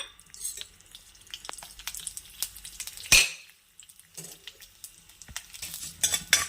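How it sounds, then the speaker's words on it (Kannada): Fenugreek seeds sizzle and crackle in hot ghee in a pan, with a spoon clinking and stirring through them up close in a busy, steady clatter. "ಅದೇ ಬಾಣಲಿಗೆ ಒಂದು ಸ್ಪೂನ್ ತುಪ್ಪ ಹಾಕಿ ಅದಕ್ಕೆ ಅರ್ಧ ಸ್ಪೂನ್ ಮೆಂತ್ಯನ ಹಾಕಿ"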